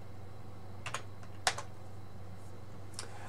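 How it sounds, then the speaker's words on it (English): Computer keyboard keys tapped to enter a command on a Raspberry Pi running OctoPi, a handful of sparse clicks with one sharper keystroke amid a steady low hum, no talking. "you can get into this file to edit it by typing"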